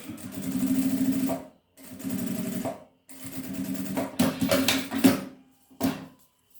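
A domestic sewing machine stitches a seam on a small fabric wallet, running in several close bursts with short pauses between them for backstitching at the start and end.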